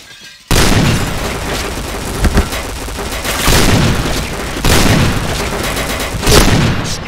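Gunfire in a shooter video game, loud booming shots and bursts that keep going almost without a break, with heavier blasts standing out at intervals.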